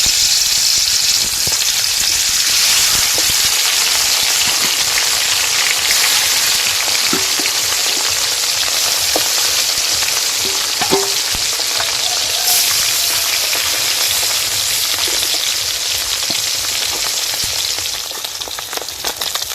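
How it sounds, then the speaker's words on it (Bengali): Bhola river fish sizzles loudly in hot oil while being fried for a mustard fish curry, a steady hissing crackle close by with scattered pops, easing slightly at the very end. "একই রকম ভাবে বাকি সব মাছগুলো ভেজে নেব।"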